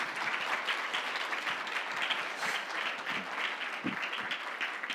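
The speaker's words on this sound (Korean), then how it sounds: "우리 손정호 목사님 올라오실 때 큰 박수로 환영하도록 하겠습니다" A church congregation applauds to welcome a pastor to the stage at a Sunday worship service, a dense, even wash of clapping from a large crowd lasting the whole stretch.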